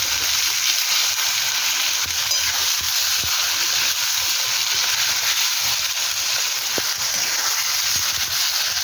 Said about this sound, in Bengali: চিকেনটা ভেজে নেবো। টমেটো একটা দিয়ে দিলাম।